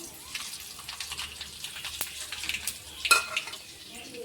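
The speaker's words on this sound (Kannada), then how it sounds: "ಇವಾಗ ಎಣ್ಣೆ ಕೈದಾದ್ರಿ ಒಂದು ಸ್ವಲ್ಪ. ಅದಕ್ಕೆ ಈ ಸಾಸಿವೆ ಜೀರಿಗೆ ಒಟ್ಟಿಗೆ ಹಾಕೋತೀನಿ ರೀ ನಾನು." Mustard seeds and cumin are dropped into hot oil in a home kitchen, giving a soft, steady crackling sizzle with light stirring scrapes and one sharper clink near the end.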